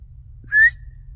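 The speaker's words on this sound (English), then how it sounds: "That was like a whistle." A single short, clear whistle rises slightly in pitch against near silence and a low background hum in a forest at night.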